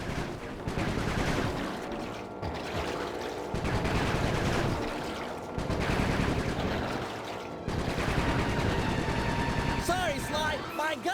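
Sustained bursts of gunfire in the Sly 3: Honor Among Thieves canal boat chase, loud rattling volleys in four long stretches separated by brief lulls, with splashing water and game voices mixed in.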